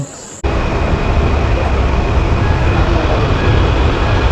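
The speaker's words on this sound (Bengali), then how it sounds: "ট্রেন আমাদের দাঁড়িয়ে আছে, এই দেখো।" A train stands at Azimganj Junction railway station on a drizzly day, heard from an overbridge as a loud, steady rumble and hiss that begins abruptly after a short quiet moment and carries on unbroken.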